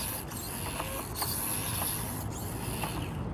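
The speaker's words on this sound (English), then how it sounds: "Here's the top speed on the stock motor with a fresh 2S." An Axial SCX24 RC crawler with its stock motor on a fresh 2S battery runs at top speed, giving a steady, close, high-pitched mechanical whir with faint gear clicking throughout.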